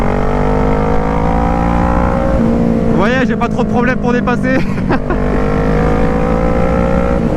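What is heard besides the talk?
Kawasaki ER6N 2012 V-twin motorcycle engine accelerating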